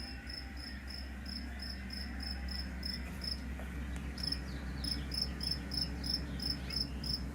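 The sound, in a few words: cricket chirping outdoors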